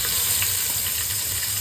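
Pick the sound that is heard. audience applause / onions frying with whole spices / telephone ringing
onions frying with whole spices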